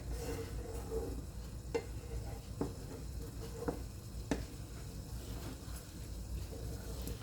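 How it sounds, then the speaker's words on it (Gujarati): Milk with edible gum being stirred in a pan for Gundar Paak: a soft, low simmering bubble with a few sharp spoon taps and scrapes against the pan, quiet and close. "નહીં તો દૂધ ફાટી જાય એટલા માટે હલાવતા રહેવાનું છે।"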